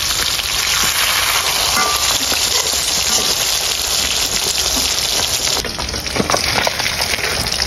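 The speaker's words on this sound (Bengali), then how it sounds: "এই মাছগুলো একটু কড়া করে ভাজতে হবে।" Poa fish crisp up in hot oil, a loud, close crackling sizzle like heavy rain that runs without a break, with a brief shift in texture near the end.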